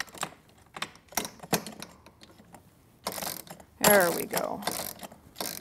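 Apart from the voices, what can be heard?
turning an Allen wrench to tighten furniture bolt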